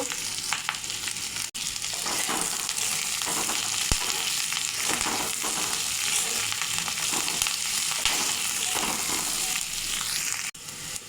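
Vegetables for fried rice sizzle loudly and continuously in a pan, with scattered stirring scrapes and pops throughout.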